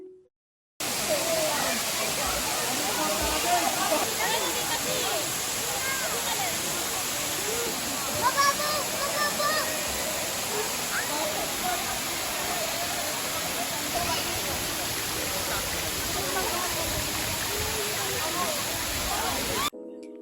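Batlag Falls in Tanay, Rizal pours in a loud, continuous broadband roar of rushing water, steady and close throughout, with no pauses.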